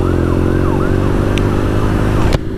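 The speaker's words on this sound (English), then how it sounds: "I could hear sirens" Wailing emergency vehicle siren rising and falling steadily over the loud drone of a BMW R nineT Scrambler motorcycle engine at road speed, the siren fairly distant and continuous until cutting off near the end.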